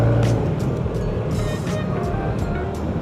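An RTS R165 second-generation electric trolling motor pushes a small boat forward in a quick burst, its steady whir blending into broadband water and hull rush that stays loud and continuous, with a voice talking briefly near the start.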